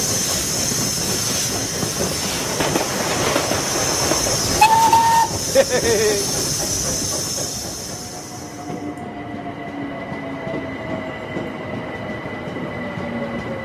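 A train at Hackney Station in London, with rumbling carriages and hissing, then a brief whistle-like tone before the rolling noise fades to a quieter steady hum.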